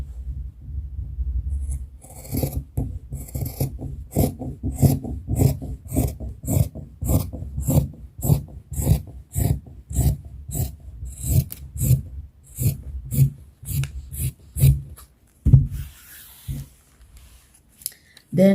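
Scissors cut through swimsuit fabric in a steady run of crisp, close snips, about two per second, with brief pauses and a soft voice speaking underneath.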